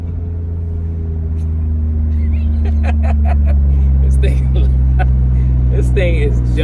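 BMW F80 fitted with VRSF intakes, charge pipes and a top-mounted intercooler gives a loud, deep engine rumble from inside the car while driving, with people talking and exclaiming over it.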